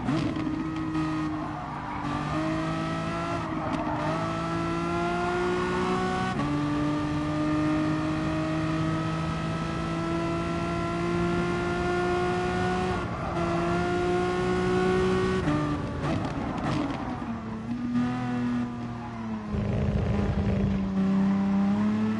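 A race car engine in Gran Turismo Sport drones loudly and continuously, its pitch stepping up and down with gear shifts and revs, with brief scrubbing tire noise near the end and no talk.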